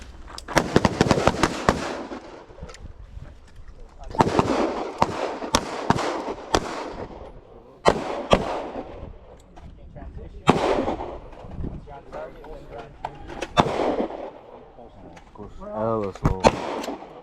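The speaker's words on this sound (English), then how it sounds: "Pistol, one shot." Pistol shots at an outdoor shooting range drill, sharp loud cracks in several quick groups separated by pauses, with faint talk between bursts.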